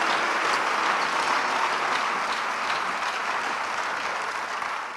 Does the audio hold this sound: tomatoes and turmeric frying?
no